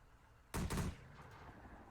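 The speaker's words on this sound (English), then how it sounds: "that'll be the mortars there" A single loud explosive mortar burst from the video game Close Combat: The Bloody First, sharp and heavy, then a quieter rumbling tail.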